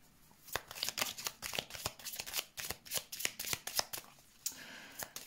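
Tarot cards being shuffled for a reading, a quiet run of crisp riffling flicks and soft slaps in an irregular rhythm, close by and alone.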